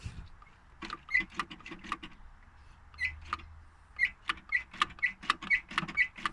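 Throttle cable mechanism on a car squeaks repeatedly in short, sharp chirps as it is worked back and forth, close up, with a faint low hum beneath and no talking.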